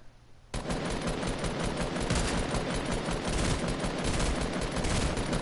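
Dense, continuous automatic gunfire from a video game begins abruptly after a short quiet moment and rattles on steadily and loudly to the end, with no talk over it.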